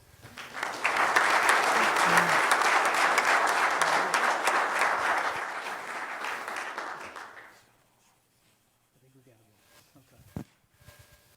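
A round of applause at a village regular board meeting, broad steady clapping from the room that swells, holds for several seconds, then fades to quiet with faint voices and shuffling afterward.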